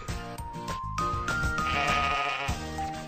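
A cartoon goat bleats briefly over busy farmyard music, a short wavering call in the middle of the clip, moderately loud, with no talk.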